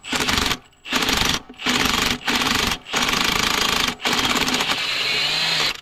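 A cold cordless impact wrench runs in loud repeated hammering bursts while removing rear differential studs on an FLD120 truck, with brief pauses between the bursts and a longer steady run near the end.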